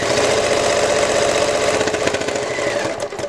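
A sewing machine runs steadily while quilting a patchwork bow from cuddle fabric, its needle pivoting at a corner; close, loud, continuous mechanical whirring with fast rhythmic stitching that slows near the end.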